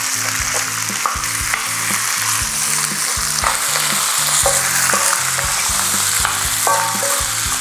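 Boiled pork pata sizzles loudly as it is sautéed in a pan, with a continuous hiss and frying crackle broken by occasional stirring clatter and knocks.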